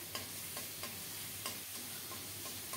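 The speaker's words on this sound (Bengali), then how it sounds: "পেঁয়াজটাকে নেড়ে চেড়ে কিছুক্ষণ ভেজে নিয়ে স্বাদ মতো লবণ দিলাম।" Onion and green chili paste fries in a pan with a steady, close sizzle, broken by regular light stirring scrapes roughly every half second or so; no voices.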